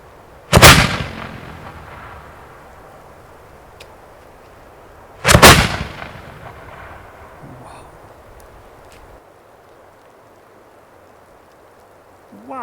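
Two loud, sharp Roman candle firework blasts burst about five seconds apart, each with a crackling tail that fades into quiet outdoor background, with a faint third pop at the end.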